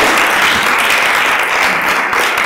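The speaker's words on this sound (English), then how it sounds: "Please give a huge round of applause to my amazing panel" A conference audience gives loud, dense applause for a panel discussing media and women's empowerment, continuous clapping from a large crowd at an even level throughout.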